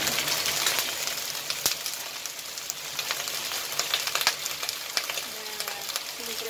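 Shredded cabbage stir-frying in a hot pan gives a steady, close sizzle with scattered sharp crackles and pops throughout, with no voices.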